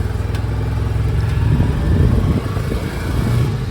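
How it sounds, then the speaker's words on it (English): A 2023 Polaris Ranger 570 SP side-by-side drives off with a loud, close mid-pitched engine drone that rises slightly as it accelerates, with crunching over the ground and no speech. "We're going to go ahead and drive it around a little bit."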